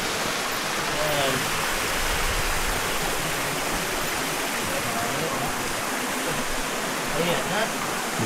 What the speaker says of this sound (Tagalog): Ayun, isang falls.